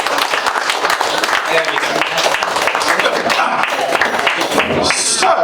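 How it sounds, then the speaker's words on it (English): Audience applause at a magic show night in a Plymouth bar, dense steady clapping filling the room throughout, with a voice speaking briefly over it near the end. "Give her a massive round of applause."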